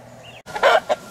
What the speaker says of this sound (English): Here's some of the chickens grazing out in the front yard.